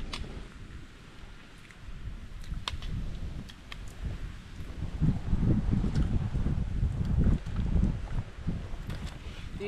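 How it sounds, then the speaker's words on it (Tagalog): Wind blowing steadily outdoors among rocks, a continuous rushing roar with gusts swelling toward the middle, alone without talk. "Mahangin pala dito."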